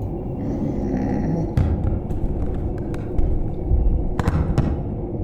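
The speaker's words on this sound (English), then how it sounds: "That's footsteps." Footsteps in an immersive horror video game, soft irregular thuds and taps scattered over a dense low rumble of ambience, with a few sharper knocks near the middle and end.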